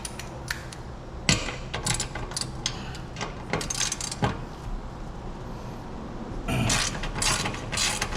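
A ratchet wrench loosens the clamp bolts on a Tab Performance 4.5 inch B.A.M Sticks exhaust, giving bursts of quick, light metallic clicking with short gaps between strokes, close and moderately quiet.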